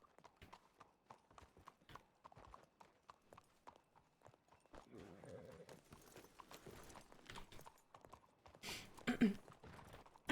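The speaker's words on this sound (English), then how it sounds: "This is a lot of horses." Many horses clip-clop along in the Western roleplay video game WildRP, quick overlapping hoofbeats in a steady patter that grows busier midway, with a brief louder burst near the end.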